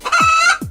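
A rooster clucks twice, loud and close: a long, full call followed by a short second one.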